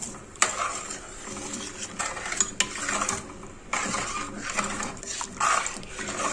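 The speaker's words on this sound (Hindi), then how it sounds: "फ्रीज किए हुए दूध को उबालने के लिए हमें उसमें मुसलसल चम्मच चलाते रहना चाहिए" Metal spoon stirring frozen milk as it boils in a pot, repeated scraping and clinking strokes against the pot over a bubbling sizzle, close and moderately loud.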